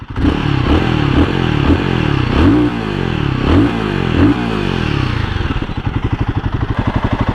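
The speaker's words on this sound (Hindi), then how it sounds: "एग्जॉस्ट का जो साउंड है ना वो मुझे काफ़ी अच्छा लगा" A 2024 Royal Enfield Guerrilla 450 motorcycle revs repeatedly in loud bursts, the exhaust rising and falling, then settles into a steady throbbing idle near the end.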